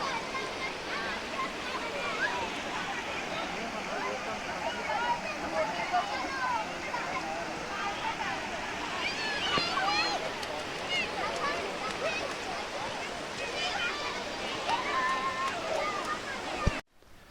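A hill river near its source at Kondeshwar, Badlapur, rushes in a steady broad wash of water noise for the whole stretch, with indistinct voices faintly mixed in.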